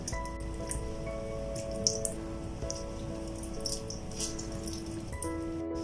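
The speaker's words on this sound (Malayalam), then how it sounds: "അപ്പം നമുക്കൊരു അര നാരങ്ങ ഇതിലേക്ക് പിഴിഞ്ഞൊഴിച്ചു കൊടുക്കാം" Half a lemon squeezed by hand over cleaned raw prawns, with juice dripping and light squishy drops pattering steadily and faintly close by over a low background hum.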